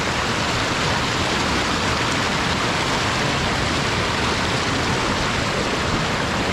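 Water gushes steadily through a cleared household pipe, a dense, even rushing hiss that holds without a break.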